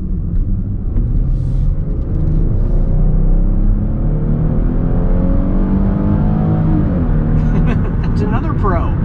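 A 2023 Chrysler Pacifica minivan's 3.6 liter V6 engine accelerating from inside the cabin, a loud steady rumble that climbs in pitch as it revs, with someone talking over it throughout.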